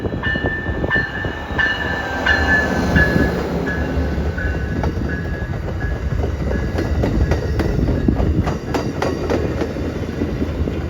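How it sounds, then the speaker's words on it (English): Amtrak Hiawatha passenger train passing with a Charger locomotive leading and a Dash 8 at the rear, loud rolling rumble with rhythmic clickety-clack of wheels over rail joints and faint wheel squeal, close by. "This time it's Hiawatha train 337 with another charger leading and a Dash 8 at the rear."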